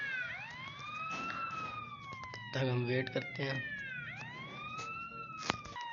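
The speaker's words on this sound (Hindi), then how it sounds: "ये आ गया एम्बुलेंस, वो अभी लमार को ठीक कर देंगे।" A wailing ambulance siren in the video game GTA V sweeps up and down in long repeated cycles, steady and fairly quiet, while someone speaks briefly in Hindi over it.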